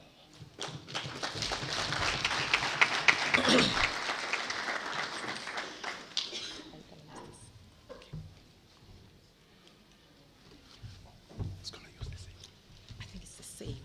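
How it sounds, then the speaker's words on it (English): Audience at an education department event applauding, a swell of clapping that builds, peaks and fades after a few seconds, followed by scattered murmuring and soft talk. "Let's give her another round of applause, colleagues."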